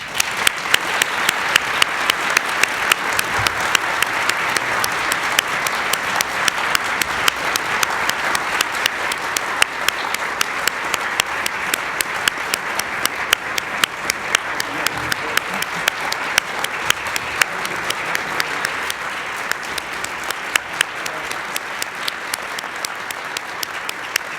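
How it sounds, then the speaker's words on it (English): Sustained, dense applause fills the room from an audience at a Memorandum of Understanding signing ceremony with Secretary Blinken, holding steady and loud for over twenty seconds. "Please join me in a round of applause."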